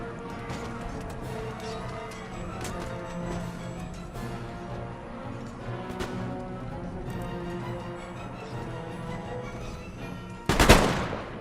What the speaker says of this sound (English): we have my artillery firing in the background here